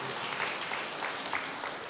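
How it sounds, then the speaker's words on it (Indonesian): Congregation applauding during a church sermon, a steady wash of many hands clapping together at moderate distance, filling the short moment without any voice on top. "Berikan tepuk tangan yang meriah."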